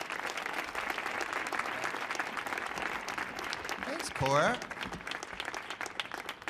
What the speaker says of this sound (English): Please give a round of applause for John Bucchino.